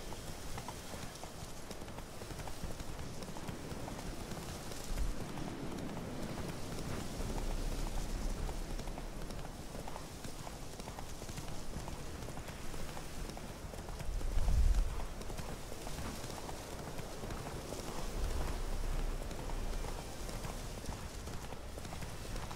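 Roach the horse gallops through The Witcher 3, hooves beating a steady clip-clop rhythm over soft ground, faint and close, with a rain-like hiss in the background.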